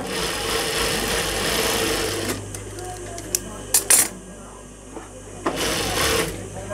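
A sewing machine stitches a boy's salwar in a steady rapid whir for about two seconds, then stops, leaving a low hum with a few sharp clicks and handling knocks as someone talks.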